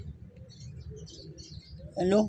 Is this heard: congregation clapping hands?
no